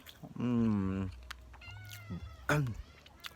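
Pet cats meowing close by before being fed beef loaf, several long drawn-out meows with short pauses between, loud and near.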